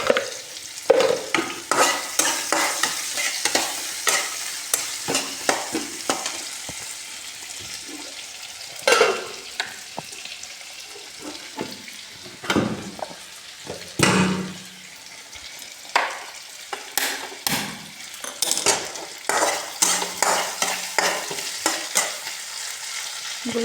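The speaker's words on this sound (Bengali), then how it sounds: "এগুলো ভাজা হোক।" Chopped onion and salt sizzle and fry in a pan while a spatula stirs and scrapes repeatedly in irregular bursts, close up, with no talking.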